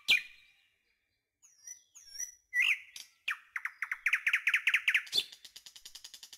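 A bird calls alone, with short whistled chirps followed by a fast rhythmic run of repeated bright notes and a final sharp burst, clear and close.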